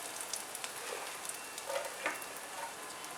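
Mustard seeds, jeera and asafoetida sizzle in hot oil in a pan for garlic rasam, giving a faint, steady hiss dotted with tiny scattered pops.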